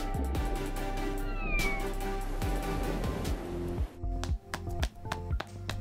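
A cartoon sea cat meows amid a busy animated soundtrack, the cry blending with music, tapping and splashy effects, moderately loud and continuous over the stretch.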